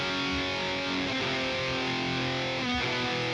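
Electric guitar played through a Line 6 Helix amp path with a 1 ms delay, giving a thick, distorted tone with steady sustained chords and a brief change in the notes near the end, with no talking.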